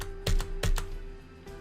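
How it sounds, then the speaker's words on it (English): Three quick keystrokes on a computer keyboard, each a sharp close click with a brief pause between, fading into quiet room tone with a faint steady hum. "press the Enter key on your keyboard 3 times"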